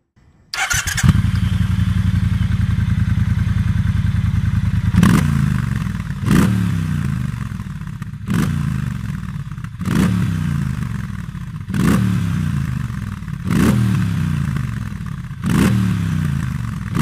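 A motorcycle engine starts and idles with a deep steady rumble, then revs sharply about seven times in a regular rhythm, close and loud.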